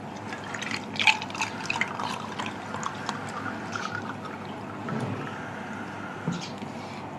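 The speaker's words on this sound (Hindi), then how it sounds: "अब हम इसमें डालेंगे पानी।" Water poured from above into an empty glass packed with ice cubes while making raw mango sharbat, a soft continuous trickle with scattered bright clinks and drips, fairly close and without voices.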